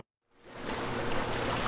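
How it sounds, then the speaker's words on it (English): Water sound effect of people swimming that fades in from silence after a brief moment and builds into a steady full wash of splashing and churning water. "just sounds like people swimming."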